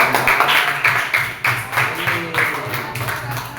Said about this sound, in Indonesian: Ya, kasih tepuk tangan dong.